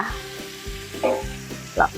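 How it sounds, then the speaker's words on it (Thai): Pieces of chicken sizzle and crackle in hot oil in a home kitchen, with occasional stirring scrapes and bubbling flare-ups, heard close up. "รายการต่อไปของเราก็จะทอดไก่ค่ะ"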